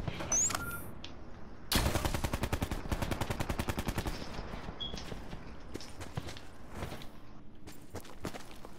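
Rapid automatic gunfire in the video game Call of Duty Blackout, long bursts of sharp cracks in fast rhythm, then scattered single shots and distant pops, with no speech.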